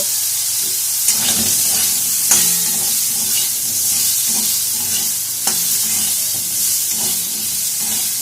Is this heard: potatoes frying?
yes